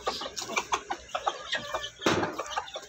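Two-month-old chicks, four in all, peep and cluck in a quick run of short calls close by, with a slightly louder burst near the end.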